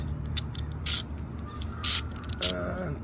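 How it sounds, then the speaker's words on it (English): A ratchet turning an 8mm socket to loosen an 8mm bolt while installing a side mirror pod light on a 2021 Ford Bronco: a few short, close bursts of rapid metallic clicking separated by pauses, with faint creaks between. "socket to loosen up the 8mm bolt"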